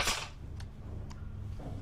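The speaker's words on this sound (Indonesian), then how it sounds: "Lucas pun memberikan pistol kepada Ella dan mengajarinya untuk menembak" A single sharp pistol shot cracks out at the very start of a film scene, followed by a quiet low room hum and two faint clicks, with no speech.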